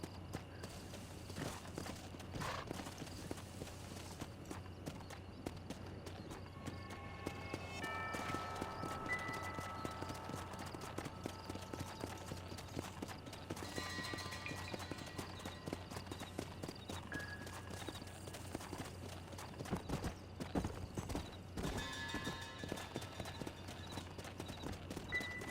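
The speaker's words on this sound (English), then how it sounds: "Those are horses." Horse hooves clip-clopping in the video game Red Dead Redemption, a steady rhythmic trot across the whole stretch with an occasional whinny, moderately close and unbroken by talk.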